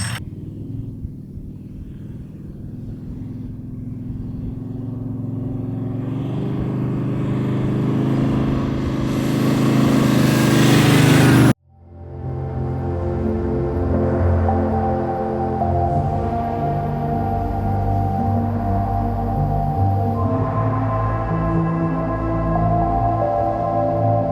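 Car engine driving hard through coastal sand dunes on the way to a beach, a steady loud rumble with revving that swells over about ten seconds, cuts briefly, then resumes as a continuous engine drone.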